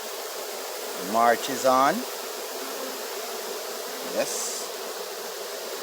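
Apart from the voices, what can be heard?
colony of bees moving into a new box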